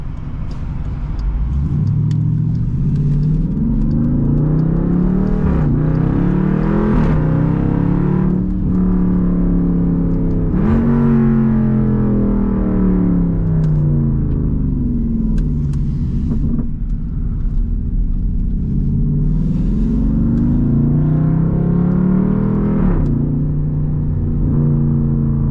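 Straight-piped SRT Jeep engine pulling hard on a highway, a loud, continuous rumbling exhaust roar that rises and falls through several acceleration runs and gear changes, close and steady throughout with no talking.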